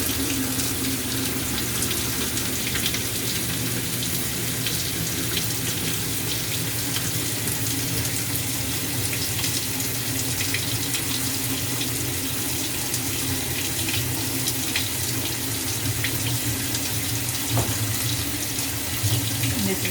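Hot water runs steadily from a tap onto Tide Pods laundry detergent packs to dissolve them, a continuous close splashing stream with no talk.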